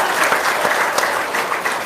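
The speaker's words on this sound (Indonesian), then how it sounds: "Tepuk tangan dong." An audience breaks into brief, dense applause, a steady wash of many hands clapping together.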